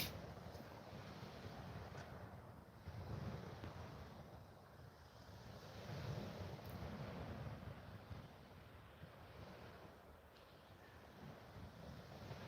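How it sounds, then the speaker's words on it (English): Sea waves washing up a beach, a soft continuous rushing wash that swells and recedes in gentle surges, heard faintly from a short distance with some wind noise on the microphone and no talking. "The sea is coming up the beach now."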